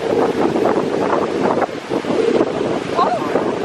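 Cold sea waves wash against the shore under strong gusting wind that buffets the microphone, a continuous loud roar with surf rushing beneath it.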